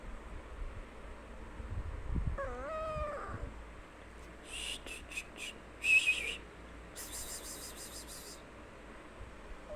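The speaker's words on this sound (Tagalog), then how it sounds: "Ito yung pusa." A cat gives a short, rising-falling meow over faint wind and background hiss, followed by a few high whistling chirps.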